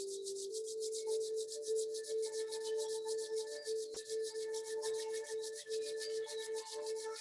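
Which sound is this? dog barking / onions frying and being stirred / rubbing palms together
rubbing palms together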